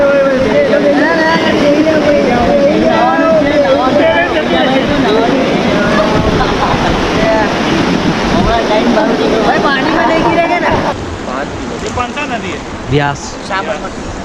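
River rafting through rushing cold water, a continuous loud roar of churning rapids that dips slightly near the end, with people talking and calling out over it.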